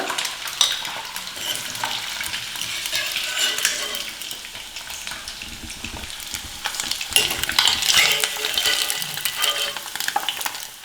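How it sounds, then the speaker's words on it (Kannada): Fried eggs for a garlic egg fry are lifted out of hot oil onto a plate, with continuous sizzling overlaid by repeated metallic clinks and scrapes of a utensil against the pan, close and fairly loud. "ಈಗ ಮೊಟ್ಟೆಗಳನ್ನೆಲ್ಲ ತೆಗೆದ್ಬಿಟ್ಟು ಒಂದು ಪ್ಲೇಟಿಗೆ ಹಾಕೊಳ್ಳೋಣ"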